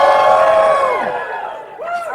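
A convention crowd at a pony-fandom event cheers and whoops loudly, a big sustained roar of many voices that tapers off, then a fresh rising whoop at the end.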